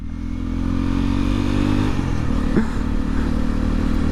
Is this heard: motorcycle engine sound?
yes